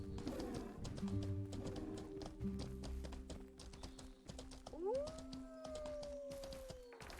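A canine animal in the online fantasy game Mortal Online 2 gives a rising, drawn-out howl partway through, over hollow clip-clop hoofbeats and scattered bird-like calls, all at a faint, distant level.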